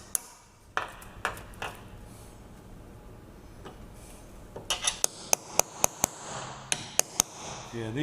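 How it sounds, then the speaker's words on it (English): A hammer driving a small pin punch to knock rivets out of an IndyCar part, a series of sharp ringing metallic taps, sparse at first then quicker, with faint talk in the background. "we'll take a little pin punch and we'll punch those rivets out"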